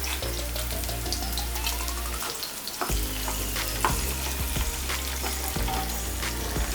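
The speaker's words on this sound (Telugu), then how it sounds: "ఇప్పుడు తాలింపు గింజలు వేసుకుందాం" Tempering seeds crackle and sizzle loudly in hot oil for stuffed bitter gourd fry, a steady dense frying hiss with sharp pops and occasional stirring clinks, close up with no talking.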